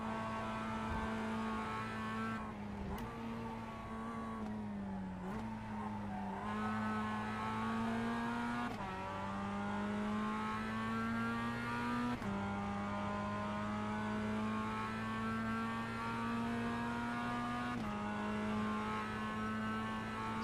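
A Ford Mustang FR500S race car laps Winton circuit on cold tires and a heavy fuel load. Its engine drones loudly and steadily from inside the car, with pitch dips at gear changes and repeated rises under acceleration. No one speaks.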